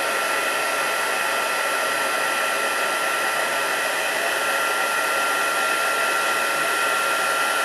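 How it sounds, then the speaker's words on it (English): A heat tool blasts hot air to melt embossing powder on a concertina card, a loud, steady whooshing whir that holds unbroken throughout. "I could watch embossing powder melt all day long."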